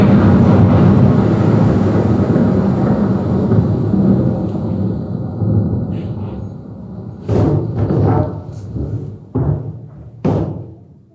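Deep thunder from a thunderstorm rolls on as a loud, sustained low rumble, then breaks into several sharper cracks and bursts toward the end.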